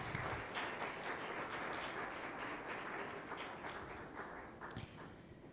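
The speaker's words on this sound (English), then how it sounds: "Please, let's give another big round of applause." A summit audience claps in a continuous round of applause, broad and even at moderate volume, tapering slightly toward the end.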